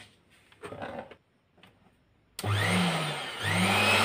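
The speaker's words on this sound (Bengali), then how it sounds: "এই দেখুন সাউন্ড পাচ্ছেন, ব্লেন্ডার মেশিন চলছে" After a few soft knocks, a blender motor roars on loudly, dips briefly and whirs up again, running steadily to the end.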